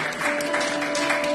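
A church congregation applauding and acclaiming during worship; a dense wash of clapping with a sustained tone ringing underneath, moderately loud and steady over a brief stretch.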